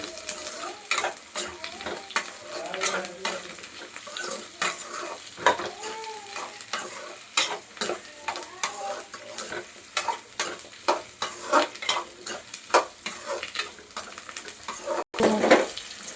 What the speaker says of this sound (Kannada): ನುಗ್ಗೆಕಾಯಿ ಹಾಕಿ ಸ್ವಲ್ಪ ಎಣ್ಣೆಲ್ಲ ನಾವು ಫ್ರೈ ಮಾಡೋಣ